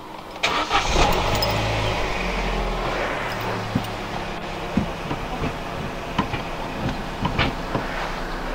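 A 2010 Vauxhall Corsa D petrol engine, with a newly fitted exhaust back box silencer, idles and revs in a steady low rumble, with occasional clicks and knocks, fairly close and moderately loud.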